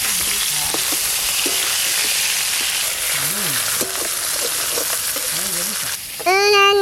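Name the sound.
hilsa fish heads frying in a pan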